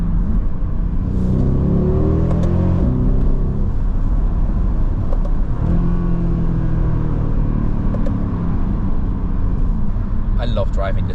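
A 2010 Mercedes-Benz E63 AMG engine revs and pulls hard while driving, a loud steady rumble with rising and falling engine tones and brief gear-change dips, heard from inside the car with speech over it.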